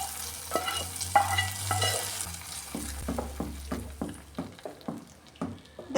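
Mango curry masala being stirred in a pan after the flame is switched off, first a soft sizzle, then a run of regular scraping, clinking strokes of a spoon against the pan, close and clear.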